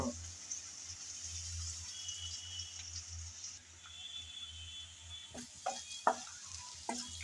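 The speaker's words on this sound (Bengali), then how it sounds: "রসুন আর পেঁয়াজ কুচি দিয়ে নেড়ে চেড়ে হালকা ব্রাউন কালার করে ভেজে নেব" Chopped garlic and onion stir-fried until light brown in a pan, with a soft continuous sizzle and a few sharp spatula scrapes and taps toward the end, fairly quiet and close.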